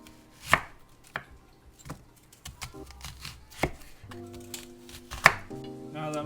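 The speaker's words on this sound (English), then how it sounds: "Now that we got the onions all cut up" A knife cuts onions into rings on a board for burgers, a series of close, distinct chops at an uneven pace. Faint tonal background sounds sit under the chopping, and no one speaks.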